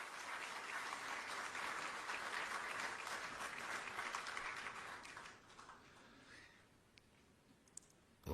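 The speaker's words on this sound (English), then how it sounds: "Another round of applause, please." A seated audience at the swearing-in ceremony for Ghana's Chief Justice gives a round of applause, dense moderately distant clapping that holds for about five seconds, then thins out into scattered claps and fades.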